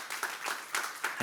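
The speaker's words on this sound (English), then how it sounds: "Let's give a round of applause" An audience claps at a livestreamed summit session, a faint, brief patter of applause with a few louder bursts and no talking.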